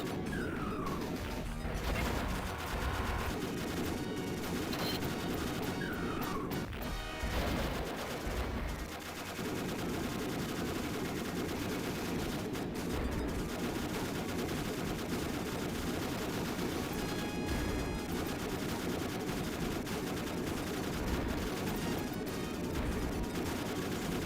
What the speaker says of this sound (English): Throwing out a billion bombs.